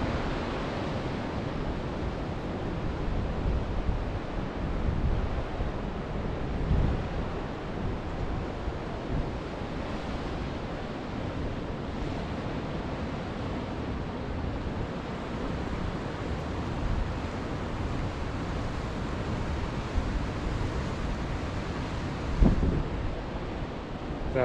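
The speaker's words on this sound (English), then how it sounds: "Power of the ocean." Ocean surf pounds the rocky Oregon coast near Sunset Bay and Cape Arago, a continuous broad roar of breaking waves with wind buffeting close by and no talk.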